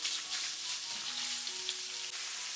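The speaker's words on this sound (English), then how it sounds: "Reheat the pan over medium heat and put the pork belly." Pork belly sizzles in hot oil in a pan over medium heat, a close, even crackle with no voices.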